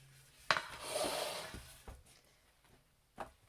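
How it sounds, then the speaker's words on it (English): Aubergine slices land in a baking pan with a sharp clatter, followed by a soft rustling scrape and a couple of later knocks, close and fairly quiet, with no talking. "chuck your aubergines all over the pan"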